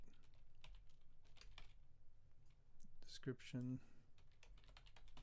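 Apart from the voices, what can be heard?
typing on a computer keyboard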